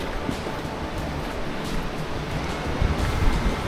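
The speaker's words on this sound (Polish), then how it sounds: "Tu jest wodospada, patrzcie tutaj." Waterfall at Hospital Rock in Sequoia National Park, a steady broadband rush of falling water that stays close and constant throughout, with no voices.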